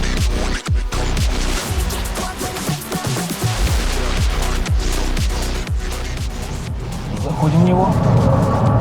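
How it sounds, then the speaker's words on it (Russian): A Lynk & Co 07 GT wagon is driven hard in sport mode on a race track, its engine revving up and down through repeated rising sweeps with tire squeal, loud and close, while people talk over it. "Выезжаем на стартовую полосу и пробуем, на что он способен."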